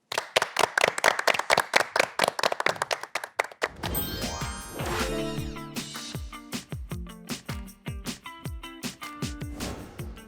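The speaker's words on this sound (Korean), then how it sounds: "기석철 교수님을 박수로 맞이합니다." At a Korean science concert lecture, the audience claps to welcome a professor of intelligent robotics. Rhythmic, unison clapping comes first, then gives way to looser applause as bright, tonal music swells underneath.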